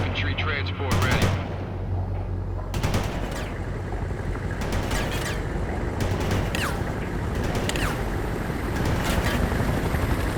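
A TOW missile launches at a Humvee amid continuous gunfire and explosions in the real-time strategy game World in Conflict. The loud, dense battle din runs under a radio-style voice.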